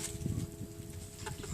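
Chickens pecking at papaya give soft, close clucks and scattered pecking taps over a quiet background hum.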